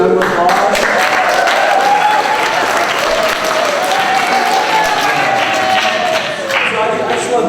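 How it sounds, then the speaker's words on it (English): An audience breaks into loud, sustained clapping for the speaker's parents, a close, dense wash of hands that holds steady and dips only slightly near the end. "My parents, guys, give them a round of applause."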